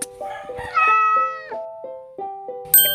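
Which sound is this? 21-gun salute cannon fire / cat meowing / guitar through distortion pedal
cat meowing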